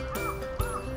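Ducks being fed at a campsite quack in short nasal bursts, with a second burst following about half a second later, close and fairly loud over a steady outdoor background.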